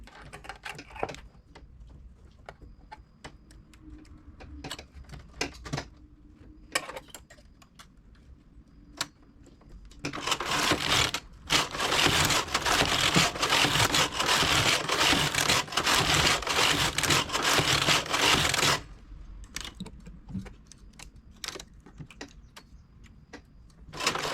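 A domestic knitting machine with a ribber clacks as stitches are worked, with sparse ticks and clicks, then a long, loud stretch of rapid carriage rattling in the middle before quieter ticking resumes.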